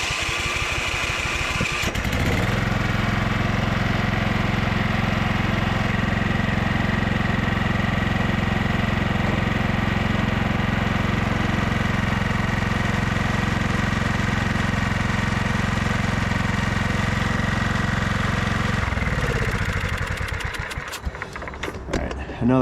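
A 2001 Craftsman LT1000 lawn tractor engine cranks and catches after a short pause, then settles into a loud, steady idle that runs for about seventeen seconds before shutting down, leaving a few faint clicks.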